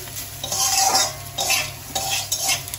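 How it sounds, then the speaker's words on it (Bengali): Bitter gourd with ground spices fries in a pan, loud hissing sizzle swelling in waves as a utensil scrapes and turns the pieces, close up and with no voices. "এবার এগুলোকে খুব ভালো করে এর সাথে একটু ভেজে নিতে হবে"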